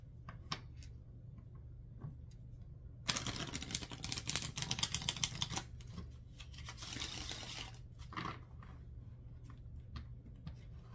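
Tarot cards being shuffled, a fluttering riffle burst of rapid papery clicks lasting a few seconds, with scattered softer card taps and handling before and after against a low steady hum.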